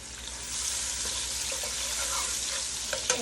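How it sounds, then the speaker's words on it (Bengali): Cumin seeds and chopped onion fry in hot oil for a Bengali hilsa fish curry, giving a steady, dense sizzle that fills the whole clip at close range, with a small clink near the end and no talking. "এখানে একটু জিরা ফোড়নি দিয়ে দিলাম আর এখানে একটু পেঁয়াজ কুচি"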